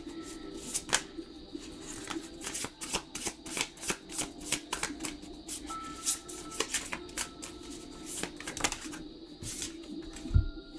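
Tarot cards being shuffled close by during a reading, a long run of crisp riffling flutters and soft slaps in irregular bursts, with no one talking over them.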